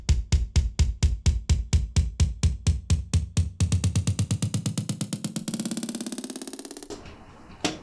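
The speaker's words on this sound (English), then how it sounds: "Kick sounds like this." Electronic kick drum from a music production, thumping in a steady four-on-the-floor pulse that speeds into a rolling build before dropping out, loud and alone.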